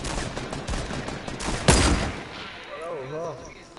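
Gunfire in a survival video game: a burst of sharp shots, one especially loud crack in the middle, followed by a voice speaking over the fading noise.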